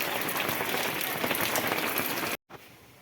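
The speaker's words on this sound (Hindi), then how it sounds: "पूरा वर्षा चलुची धरिकी" Heavy rain falls on Dussehra during Durga Puja, a dense, even hiss of downpour that fills the whole stretch before cutting off abruptly near the end.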